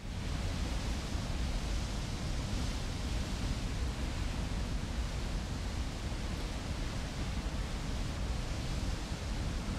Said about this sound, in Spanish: Se ve la cascada.